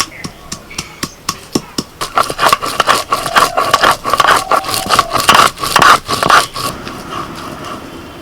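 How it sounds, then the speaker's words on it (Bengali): Banana flower (mocha) being chopped for Bengali cooking: a run of sharp, evenly spaced knife strikes against a board, then quicker, denser scraping and rustling chops with a faint background hum, close and alone. "আমি তো মোচা কুচিয়ে যাচ্ছি।"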